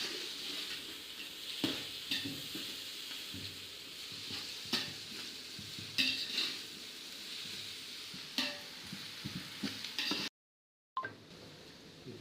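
Onions for chicken biryani fry in a pan with a soft, continuous sizzle, while a spoon stirs and scrapes in occasional sharp clinks, fairly quiet and close, with a brief dropout near the end.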